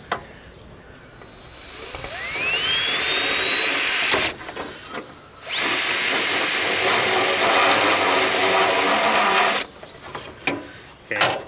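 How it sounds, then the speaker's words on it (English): A deburring tool grinds against a Craftsman GT mower hood, its high whine rising as it spins up, dropping out briefly, then running again at full speed in a long, loud, steady stretch before stopping. "modifying it with a deburring tool isn't going to hurt it"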